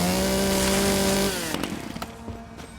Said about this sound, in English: I'm level 30, so I have a chainsaw unlocked